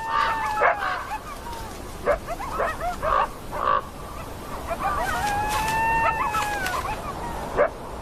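Coyotes yip and bark in short, scattered bursts of high, wavering calls, some drawn out into whines. The calls carry at moderate distance over a quiet outdoor background.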